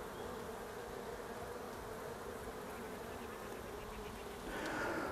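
Honeybees buzzing busily over brood frames pulled from a struggling colony, a steady close hum that swells slightly louder near the end, with no voices.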